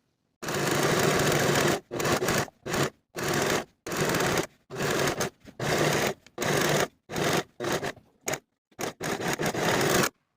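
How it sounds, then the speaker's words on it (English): A serger overlocks the raw edges of skirt fabric in a rapid series of loud, close, buzzing runs. Each run lasts about a second and is broken by brief silent gaps, and no one speaks. "I'm going to serge my edges all the way around"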